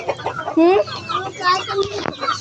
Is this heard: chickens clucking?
yes